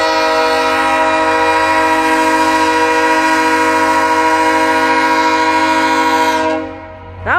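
VIA 87 passenger train sounding one long, loud, sustained horn blast of about seven seconds, steady and harmonically rich, ending abruptly.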